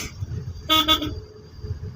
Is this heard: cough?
no